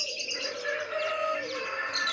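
A bird chirps with a few clear, repeated tonal calls that sweep in pitch, fairly close and moderately loud over a quiet background.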